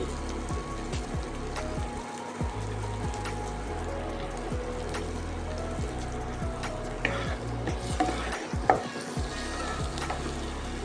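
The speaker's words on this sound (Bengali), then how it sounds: "দিয়ে হালকা একটু ফ্রাই করে দেবো দিয়ে দেবো আদা কুচি রসুন কুচি" Chopped ginger and garlic fry lightly in a pan with a soft continuous sizzle, low hum and occasional scraping clicks and clinks, moderately quiet and steady.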